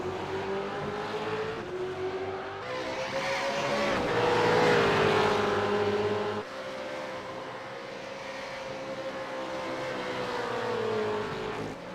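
V8 race cars at Phillip Island circuit rise and fall in a sustained high-pitched engine howl, the pitch sweeping with gear changes as the cars climb and pass at a distance, with no voices heard.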